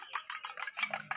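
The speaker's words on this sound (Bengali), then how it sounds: "ভালো করে একটু ফেটে নিচ্ছি আমি।" An egg with a pinch of salt is beaten in a bowl with quick, close scraping strokes, about eight in a steady rapid rhythm, with no talking.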